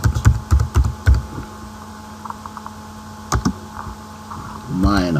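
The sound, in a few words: typing code on a computer keyboard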